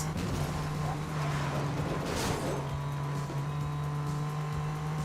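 A car engine in Need For Speed Most Wanted 2012 holds a steady low-revving drone with a sustained tone, briefly rising in a swell of acceleration before settling back into an even hum.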